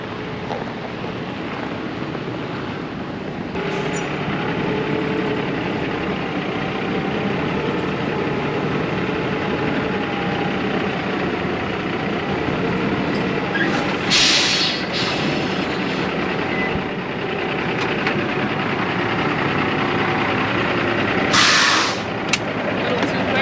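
On a farm, a truck engine rumbles steadily while backing up to a grain auger. A couple of brief, brighter hissing bursts rise above the low drone.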